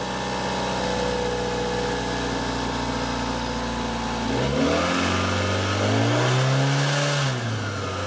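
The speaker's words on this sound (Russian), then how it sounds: "Работа двигателя на холостом ходу." Hyundai Sonata with a 2-litre G4GP petrol engine at 230,000 km, idling steadily with a low even hum, then briefly revving up and settling back, loud and close.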